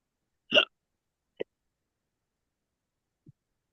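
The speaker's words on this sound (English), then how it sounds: "Dude, you got the hiccups?" Three isolated hiccups in a quiet room: a strong first one, a softer second about a second later, then a faint third after a long pause, with no talk.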